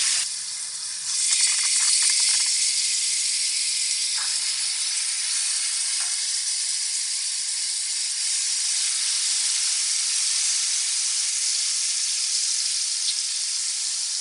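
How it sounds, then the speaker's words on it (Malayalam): Chicken pieces laid on a hot buttered tawa sizzle loudly and close up, a dense steady hiss that swells just after they hit the pan and then holds for the rest of the clip. "ഇനി നമ്മൾ ചിക്കൻ ഈ തവയിലേക്ക് വെച്ച് കൊടുക്കുകയാണ്"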